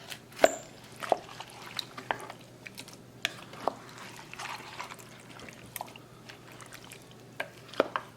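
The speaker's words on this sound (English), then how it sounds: "After adding the water, mix it well." Water being stirred into beef stew in a crock pot, with scattered wet spoon clinks, drips and soft sloshes at irregular intervals against a quiet kitchen background.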